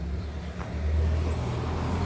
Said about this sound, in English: let this big truck go by me